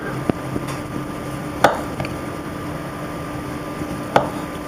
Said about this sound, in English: Just make a couple of nice slices like that